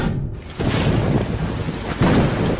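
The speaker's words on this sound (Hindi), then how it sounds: "रात में बादल गरज रहे हैं, मुझे डर लग रहा है।" Deep thunder rumbles heavily at night through steady pouring rain. The roar is loud and close and swells again near the end, with no voices.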